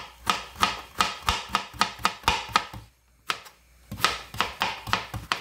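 A knife chops vegetables, including red radish, rapidly on a cutting board in quick, crisp, evenly spaced strokes, pausing briefly before resuming the same brisk rhythm.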